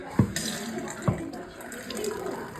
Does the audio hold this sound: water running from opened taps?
yes